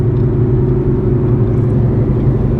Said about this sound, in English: There's car noise, there's road noise.